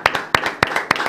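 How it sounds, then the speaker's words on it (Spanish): Studio audience on an interview show clapping for a guest, a few sharp distinct claps in a quick irregular rhythm, near and fairly loud, with no voices over them. "Un aplauso para él."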